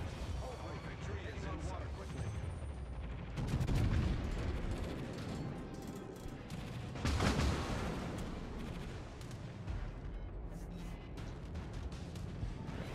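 Heavy warship guns boom in a World of Warships naval battle, two big loud salvos standing out over a constant rumbling battle din with scattered sharper shots.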